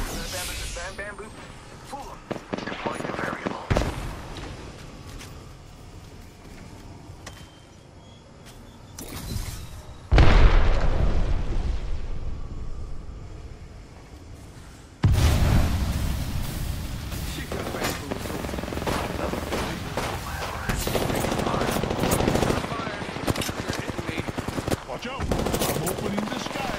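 Rapid automatic gunfire and explosions from the Apex Legends battle royale shooter crackle in loud, dense bursts with brief lulls, and game voices sound over the firefight.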